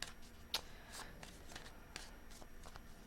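Tarot cards being shuffled by hand, a series of quiet soft riffles and flicks up close, with one sharper snap near the start.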